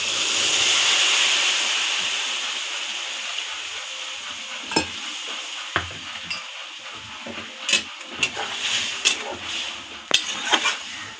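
Mustard, ginger and green chili paste is poured into drumsticks (moringa pods) frying in a pan, setting off a loud sizzle that fades into a quieter hiss broken by scattered clinks and scrapes of stirring.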